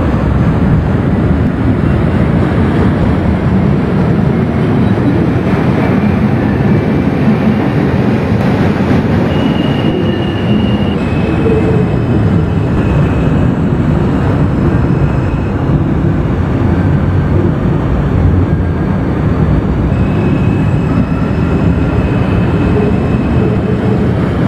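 A New York City number 2 subway train runs in the OpenBVE train simulator, a steady rumbling roar of wheels and motors on track holding loud and continuous throughout with no voices over it.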